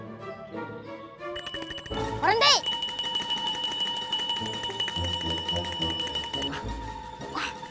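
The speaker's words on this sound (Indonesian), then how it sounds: "mendingan kita bunyi lonceng ini." A handheld bell rings out in a bright, sustained jangle for several seconds, close and loud, with a voice speaking over it before and during the ringing.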